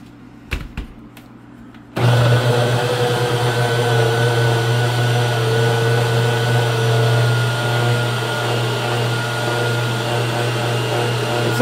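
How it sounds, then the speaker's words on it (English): A tiny food processor blends chickpea guacamole made with avocado, running as a steady, loud motor whir after a brief pause and a few clicks at the start. There is no talk. "just going to use the food processor and dump it into the actual mix itself from now on"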